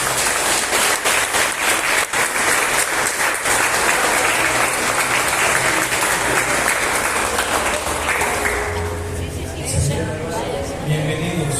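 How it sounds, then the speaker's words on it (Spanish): A church congregation breaks into loud, sustained applause, dense clapping that fills the room before thinning out toward the end as a voice begins to speak. "Vamos a darles un fuerte aplauso."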